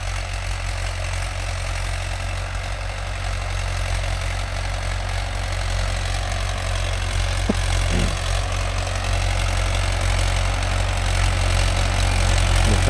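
A Mahindra 575 DI tractor engine runs steadily on a farm. It gives a loud, continuous low-pitched chug and idle rumble that stays even throughout, with a couple of faint clicks partway through.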